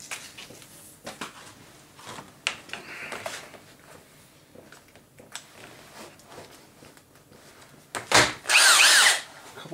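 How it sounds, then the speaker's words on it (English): Power drill driving screws into an arcade control panel during a Soul Calibur cabinet restoration, with scattered handling knocks and clicks before a loud, close burst of whirring drill near the end. "a couple of screws in this, right where we're going to normally screw it down."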